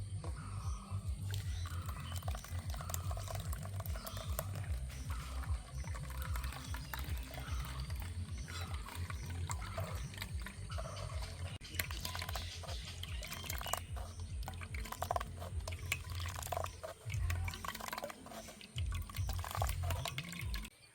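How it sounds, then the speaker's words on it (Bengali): Blended watermelon juice is strained through a sieve, making continuous wet trickling and dripping with soft liquid splashes, close and steady throughout, with no talking. "একটা ছাঁকনি দিয়ে আমি ছেঁকে নেব।"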